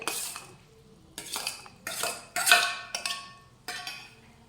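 Chopped tomatoes being sautéed and stirred in a pan for dal palak, with several separate bursts of a utensil scraping and clinking against the pan between pauses, close and moderately loud, with no talk.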